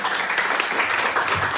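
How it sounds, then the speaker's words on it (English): Applause from an audience at a one-minute elevator pitching event, steady dense clapping throughout, loud and close with no gaps. "Big applause for him also."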